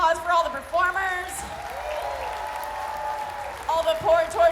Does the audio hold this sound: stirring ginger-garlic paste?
no